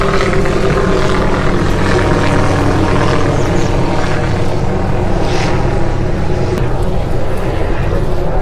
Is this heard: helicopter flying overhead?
yes